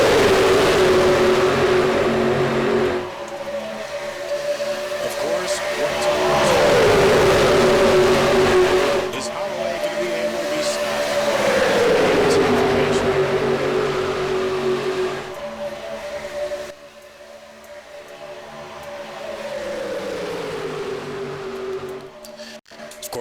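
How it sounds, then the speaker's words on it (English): Gen 4 stock cars racing at Talladega in a video game, loud engines droning steadily with repeated pitch sweeps as cars pass and shift, a dense continuous roar with several cars together throughout. "these cars do sound beautiful here"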